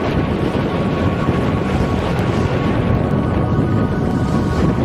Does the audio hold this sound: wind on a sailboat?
yes